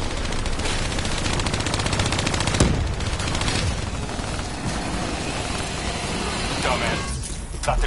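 Sustained automatic gunfire in Call of Duty Black Ops 3 as players shoot down VAP drones, a loud rattling stream of shots with mechanical clatter and a few heavier impacts.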